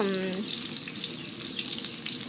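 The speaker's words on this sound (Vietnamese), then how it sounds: "Các bạn chiên cái phần này thì các bạn để lửa hơi riu riu thôi nha" Pieces of seitan fry gently in a pan over low heat, giving a steady soft sizzle and crackle close by after a brief tonal sound at the start.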